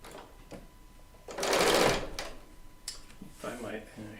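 Serger sewing machine stitching and trimming quilt-top fabric with its built-in blade, a short burst of whirring motor in the middle, with someone speaking before and after.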